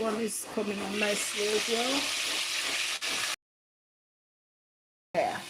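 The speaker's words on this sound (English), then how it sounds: "Just chicken deep fry." Chicken deep frying gives a steady bubbling sizzle, close and fairly loud, with a voice talking over it before a sudden cut to silence.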